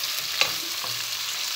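Beef tripe frying in a pan, a steady close hiss and sizzle with a couple of faint stirring knocks, no voices.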